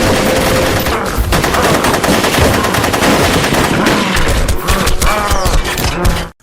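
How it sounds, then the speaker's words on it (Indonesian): Rapid, loud bursts of machine-gun fire from a film scene, the shots packed into a dense, nearly continuous volley that cuts off abruptly at the end. "mereka pun segera menghujani psikopat Titan itu dengan peluru Ojon's Bullet"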